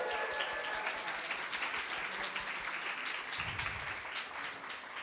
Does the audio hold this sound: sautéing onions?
no